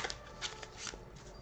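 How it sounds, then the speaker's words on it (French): Tarot cards shuffled and drawn by hand, a quick run of soft riffling flutters and papery slaps close up, with no voices. "je tire les cartes des messages de votre flamme jumelle"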